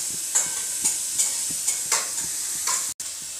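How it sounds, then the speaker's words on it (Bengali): Black cumin seeds sizzle in hot oil with a steady close hiss, broken by a series of rhythmic stirring scrapes about every half second, with no talking. "তেলটা আমার গরম হয়ে গেছে এখন আমি কালো জিরা দিয়ে দিচ্ছি"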